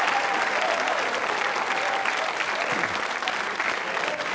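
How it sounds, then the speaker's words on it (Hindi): Steady audience clapping at a Yoga Day quiz show, a dense, even wash of hands from a seated crowd lasting several seconds with no voices over it. "तालियां बजाइए उन सभी के लिए।"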